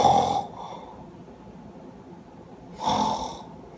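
A voice imitates an old man's snoring: two loud, rasping snores separated by a few seconds of quiet breathing.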